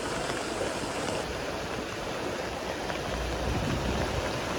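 Swollen stream water near Kullu during heavy rain, a constant loud rushing roar that fills the whole stretch without pause.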